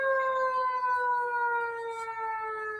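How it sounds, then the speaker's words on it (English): An ambulance siren passing on a street outside, a loud, sustained wailing tone that drifts slowly downward in pitch and holds throughout with no talk over it. "Oh God, ambulance."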